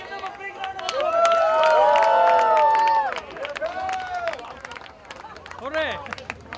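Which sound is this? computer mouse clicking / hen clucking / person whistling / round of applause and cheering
round of applause and cheering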